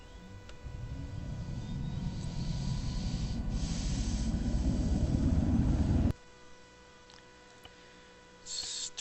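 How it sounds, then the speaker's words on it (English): Engines of a V-44 Blackfish VTOL aircraft in a video game spool up into a loud, steady, building roar, then cut abruptly to a quiet hum, with a brief hiss swelling again near the end. "so you can actually hear me over the sound of the engines"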